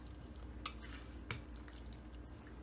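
Boiled chickpeas for chana chaat are stirred in a pan, giving soft, continuous wet stirring and shuffling with a couple of sharper scrapes of the spoon against the vessel, close up but quiet.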